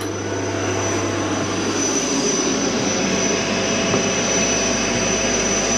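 An Aeon MIRA 5S laser cutter runs a cutting job, a steady fan-like whir with a hum that cuts out after about two seconds, and the broad blowing noise carries on evenly to the end.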